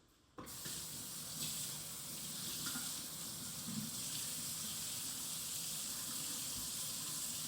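A tap runs over fish being rinsed in a sink, a steady close hiss of flowing water that starts abruptly after a brief quiet moment and continues evenly.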